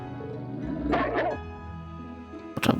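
Short dog barks and yips from the video game Trails of Cold Steel, a couple of mid-pitched bursts close up over a soft game background, with a sharper noisy burst near the end.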